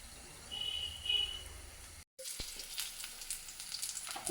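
Masala and onions fry in a pan for a roasted-coconut chana curry, giving a soft steady sizzle with light stirring scrapes and a brief silent gap midway before the frying noise resumes.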